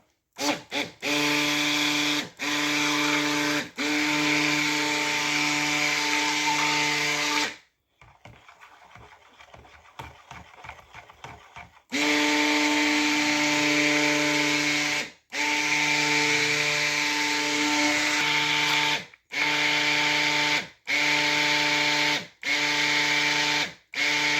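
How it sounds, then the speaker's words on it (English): A stick blender churns tallow cold process soap batter toward emulsion, running as a steady, close motor whine in long bursts, with short pauses and one quieter stretch in the middle. "we're going to blend to emulsion so that I have time to do work with the swirls here"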